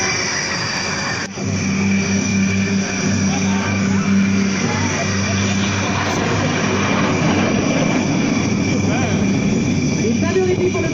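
Aerobatic airplane flying manoeuvres at an air show, a steady engine drone with shifting tones as the plane turns, loud and continuous across the whole stretch, with a brief dip near the start.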